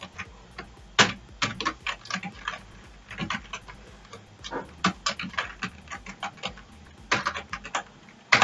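Fingers tap out an email address on a computer keyboard in irregular clusters of light, close clicks, with short pauses between bursts and no talking.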